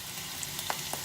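Ginger and garlic sizzle and fry steadily in a pan over a high flame while being stirred, a close, continuous crackle with a few light clicks of the utensil.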